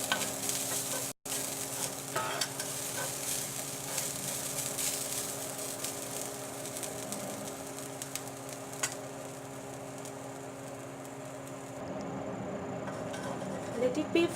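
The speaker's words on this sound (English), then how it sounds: "Let this splatter." Chopped ginger frying with coriander seeds in a hot pan, a continuous crackling sizzle with scattered splattering pops, steady and fairly close, with no voice.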